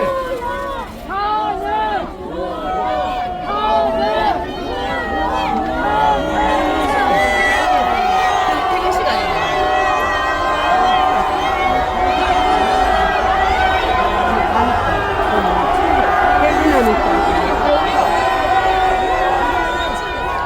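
A large outdoor crowd cheers and shouts outside the Constitutional Court in Seoul, a dense steady roar of many voices with whistles and calls rising and falling throughout, loud and continuous.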